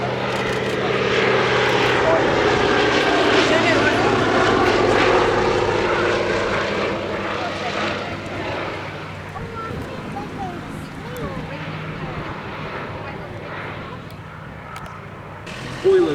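The radial engine of a Navy Wings Fairey Swordfish Mk1 biplane drones loudly through a flying display at the Shuttleworth Military Air Show, a broad rumble that fades somewhat as it passes, with a voice speaking over it.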